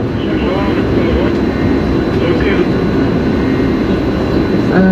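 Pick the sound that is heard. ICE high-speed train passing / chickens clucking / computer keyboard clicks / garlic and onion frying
ICE high-speed train passing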